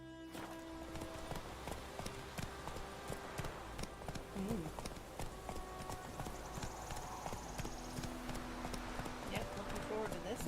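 Roach the horse gallops in The Witcher 3, a steady rhythmic clip-clop of hooves running under game music and ambience, with a brief whinny and spoken dialogue over the top.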